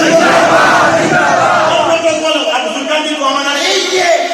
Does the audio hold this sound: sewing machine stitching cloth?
no